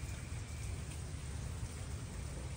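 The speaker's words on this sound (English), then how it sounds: "It's raining, guys, so hopefully it stops." Steady rain falls on an open acre of land being cleared, making a dense, even hiss with no pauses or voices.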